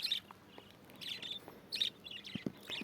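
Caged budgerigars in a home breeding setup with chicks give quick, bright chirps and twitters in scattered bursts, faint and fairly close, with a few lower clicks near the end.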